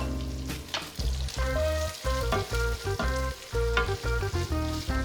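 Chopped onion fries in oil for squid adobo, a dense sizzle that runs under loud, steady background music; no voices are heard.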